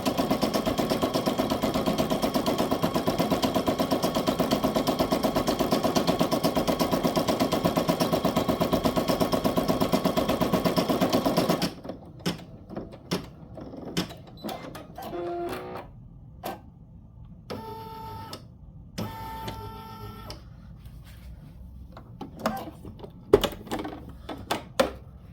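An embroidery machine stitching an in-the-hoop fabric coaster: a dense, even mechanical rattle for about twelve seconds, then intermittent short bursts of stitching with gaps, close and loud.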